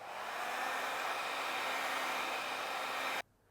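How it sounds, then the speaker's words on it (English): A hair dryer blows steadily and loudly close by, drying freshly applied colour dye on a Range Rover leather seat, then cuts off abruptly near the end, leaving quiet. "the final stage is to dry the colour that's just been applied to the surface"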